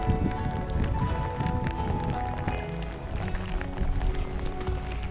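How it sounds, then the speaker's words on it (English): Small hailstones falling during a Scottish trail hike, a dense, continuous patter and rattle across the ground and gear with steady wind noise, loud and close throughout. "If you can hear this, these are hailstones."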